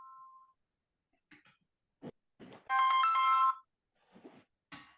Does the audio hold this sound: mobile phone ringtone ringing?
yes